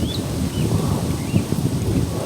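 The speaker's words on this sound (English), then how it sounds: "Quite windy, quite windy." Wind gusts blow across an outdoor microphone, a steady low rumble that swells and buffets at close range throughout, with no one speaking.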